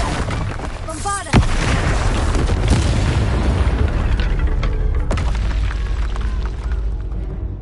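Bombarda blasting spell cast in Hogwarts Legacy, a loud explosive boom after a sharp crack, followed by sustained rumbling combat noise and debris throughout.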